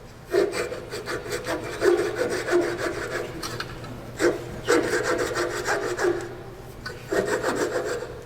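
A wooden turning is cut off at its base on a lathe, producing repeated rough sawing strokes through wood in steady bursts with brief pauses, close and fairly loud.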